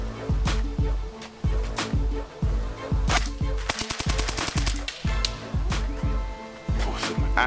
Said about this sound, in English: full metal gearbox. Full automatic. Rate of fire is absolutely immense.